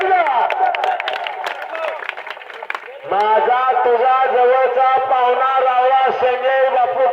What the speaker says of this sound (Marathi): टाळ्या करा